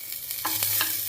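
Foxtail millet pongal ingredients are lightly fried and stirred in a pan, giving a soft steady sizzle with a few quick scraping strokes, close and alone.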